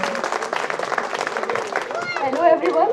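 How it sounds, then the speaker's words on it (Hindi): Applause from the audience at a school alumni meet, a burst of clapping under a crowd's murmur, with voices rising over it toward the end. "तालियां"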